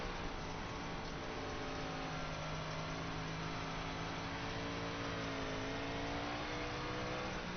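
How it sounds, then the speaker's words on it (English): A 358 modified race car engine at Lanier National Speedway, heard from inside the car, drones steadily and loudly as the throttle is worked through the corners, with a continuous, even engine roar and no pauses. "Hear just how much that throttle's got to be controlled going through these corners"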